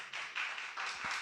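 A church congregation claps for Jesus Christ in a short burst of several quick, fairly near handclaps with no voice over them.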